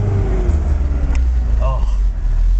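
A manual-transmission car's engine is revved hard in first gear, a loud, close droning hum with rising tones inside the cabin, mixed with voices.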